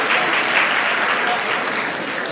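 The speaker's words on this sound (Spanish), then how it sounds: "Fuerte aplauso." Applause for an award at a university campus festival gala fills the room as a dense, steady clapping from a large crowd, with faint voices mixed in.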